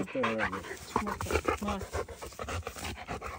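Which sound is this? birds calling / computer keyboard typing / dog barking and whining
dog barking and whining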